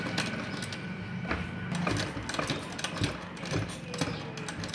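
Sewing machine stitching along the folded edge of a pocket on a baby's shorts, a continuous close mechanical whir with rapid needle ticks and slight variations in speed.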